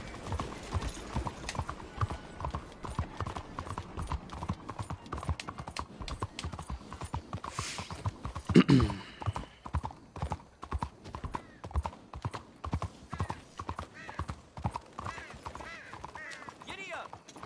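In the Red Dead Redemption II video game, horse hooves clip-clop in a brisk, steady rhythm throughout, with a brief whinny partway through and someone talking now and then.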